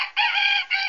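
A toy makes a short synthetic chicken sound, a loud squawking cluck in two close bursts within a second, alone with no talk.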